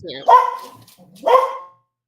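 Dogs bark in two loud, close, harmonic bursts about a second apart, heard clearly with nothing else around them.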